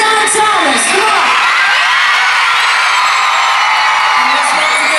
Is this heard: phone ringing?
no